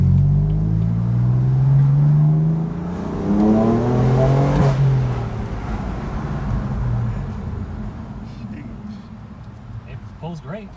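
A BMW M4 with an S55 engine on a test drive after new spark plugs, a loud engine rising through a rev, then easing off to a lower cabin rumble, with people talking.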